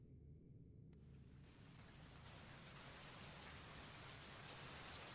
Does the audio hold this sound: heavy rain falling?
yes